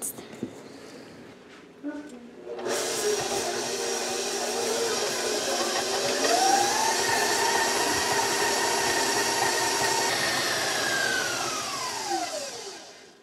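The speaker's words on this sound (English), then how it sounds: "I'm gonna take this over to my mixer and we are gonna cream this together until it is nice and creamy" An electric stand mixer beats brown sugar mixture for cookie dough, starting after a quiet moment with a loud, steady whir that holds for several seconds and then winds down at the end.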